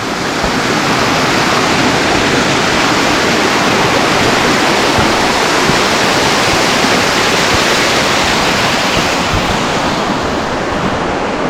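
A waterfall in the Carpathian mountains, swollen after a flood washed out the path, roars as a loud, continuous wall of rushing water close by, steady and unbroken throughout.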